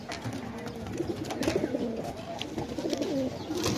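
Pigeons cooing in overlapping low, rolling calls, moderately close, over a busy background of rustling and faint noise.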